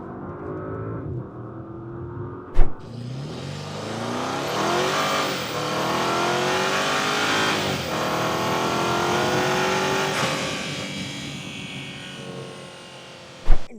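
A Lamborghini-engined Audi SQ8 revs hard, its loud engine note rising and sweeping through several climbing pitch runs over about ten seconds, framed by sharp thumps at start and end, with no talk.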